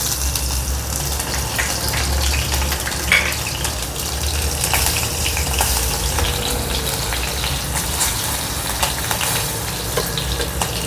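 Green chilies drop into hot oil with fried garlic and sizzle steadily and loudly throughout, a dense crackling hiss with scattered pops and no one speaking.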